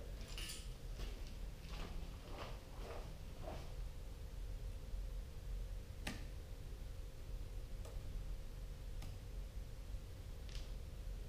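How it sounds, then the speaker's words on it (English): Wood lathe turning a natural-edge maple crotch bowl, the tool ticking faintly and irregularly against a rock embedded in the wood, several light clicks over a steady low machine hum. "You can hear it go tick, tick, tick when it hits."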